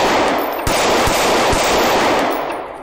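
Gunshots in a police confrontation captured on a body camera, three or four loud sharp cracks spaced about half a second apart over a constant noisy background.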